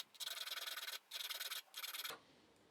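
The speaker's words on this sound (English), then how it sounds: "We'll sharpen the leading edge of the spur on this one too." Metal file rasping along the spur of a brace bit for boring holes in wood, three steady back-and-forth strokes, each close and fairly loud, with short pauses between, then quiet.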